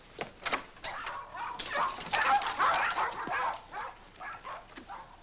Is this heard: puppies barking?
yes